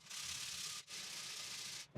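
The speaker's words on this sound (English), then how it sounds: "quite a coarse sandpaper, smooth that back" Coarse sandpaper rubs back and forth across wood in two steady, even strokes with a brief pause between, a close, quiet rasping hiss with no talk.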